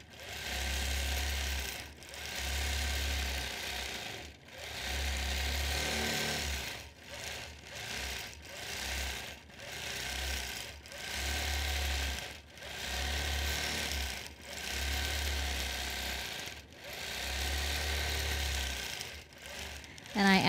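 A sewing machine stitches quilt fans in repeated bursts of about two seconds each, separated by brief pauses, close and steady throughout.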